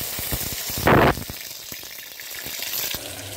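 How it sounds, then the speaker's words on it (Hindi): Tomato, onion and green chili tempering poured into very hot oil in a pressure cooker, a sudden loud hiss and crackle lasting about a quarter second amid clinks and faint frying, then quieter sizzling. "इसका हम तड़का मार देंगे और हम डालेंगे कुकर में बड़े प्यार से, हल्के हाथों से"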